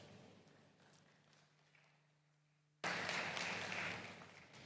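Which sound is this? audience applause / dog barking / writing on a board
audience applause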